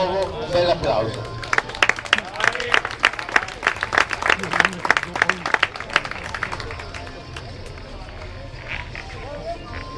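Scattered audience clapping at a boxing match award ceremony, a burst of quick claps in the middle that fades out, with a voice speaking over a public address system at the start.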